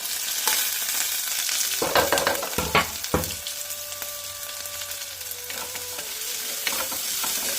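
Ginger, garlic, shallots and dried chilli sizzle in a pan for a fish curry while a spoon stirs with a few scraping knocks, the frying hiss steady and close throughout.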